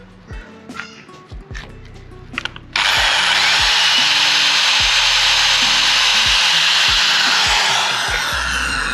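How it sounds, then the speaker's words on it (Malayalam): A power drill bores holes to mount an underbelly on an RS200 motorcycle. A few light metallic clinks come first, then the drill cuts in with a loud, steady, continuous whine that runs to the end. "ഇനി ഇവിടെ ടോപ്പിലുള്ള നമ്മൾ മാർക്ക് ചെയ്തിട്ടുണ്ട്, അതും കൂടെ ഡ്രിൽ ചെയ്യാം."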